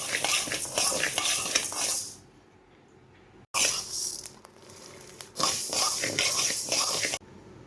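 Almonds, nuts and lentils dry-roast in a pan while being stirred, giving dense scraping rattles in loud bursts with brief quiet pauses between, close and without any talking.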